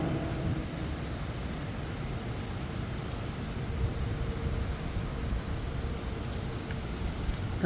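Heavy rain in Kochi, seen from a terrace, a dense continuous roar of downpour with a low rumble underneath, steady and loud with no voices.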